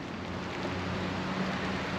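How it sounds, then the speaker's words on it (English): Steady rain falls on a Corvette C4 with an even, continuous hiss and no voices. "It started raining."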